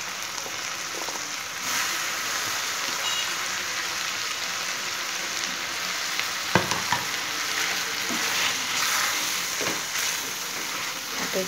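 Cauliflower curry with green peas sautéing in a pan, a dense, even sizzle with occasional soft clinks and scrapes of a spoon stirring, steady and close with no talking.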